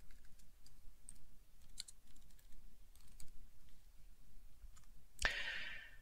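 Keystrokes on a computer keyboard while entering commands in a GNU Screen terminal session, a few faint scattered clicks over quiet room noise, then one sharper, louder burst near the end.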